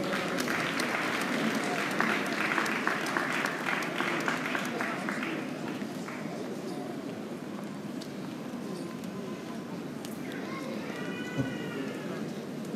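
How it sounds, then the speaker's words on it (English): Audience applause at a graduation ceremony for graduates being inducted and awarded prizes, a dense steady patter that slowly thins, with murmuring voices underneath and a brief whistle-like tone near the end. "Let's give them a round of applause."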